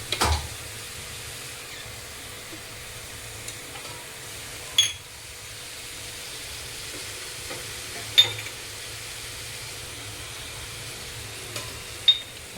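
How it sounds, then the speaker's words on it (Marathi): Eggplant and potato frying in oil, stirred in a pan: a faint, steady low sizzle with a few soft scrapes and clinks of the spoon, quiet and close. "छान असं हलवून घेणार आहोत."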